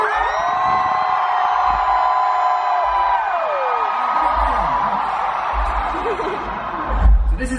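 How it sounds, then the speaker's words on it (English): A large concert crowd screams and cheers loudly on cue at a show in Korea, a sustained roar of high-pitched whoops and yells filling the hall and swelling again near the end. "On the count of three, I want you to give me your biggest scream."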